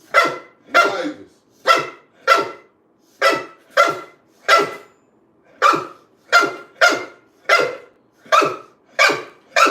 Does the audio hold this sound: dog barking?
yes